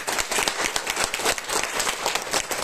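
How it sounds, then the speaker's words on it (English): A room of meeting attendees breaks into steady, moderately loud applause for a speaker at a Toastmasters-style gathering, continuous clapping throughout with no talk over it. "can we give him a big round of applause?"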